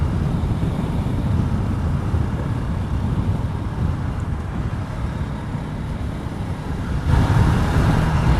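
Husqvarna Vitpilen 701 motorcycle ridden through Sydney city traffic, a continuous rumbling engine mixed with heavy wind buffeting and road noise, steady and loud with a slight swell near the end.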